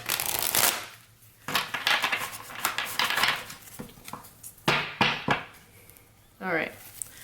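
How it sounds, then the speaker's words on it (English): A deck of cards is shuffled during a card reading, with several bursts of crisp riffling and snapping at an irregular rhythm. Close and fairly loud, with short pauses between the bursts. "I'm going to shuffle one more time."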